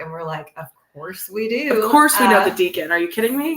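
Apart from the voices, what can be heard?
No everyday noise stands out behind the speech.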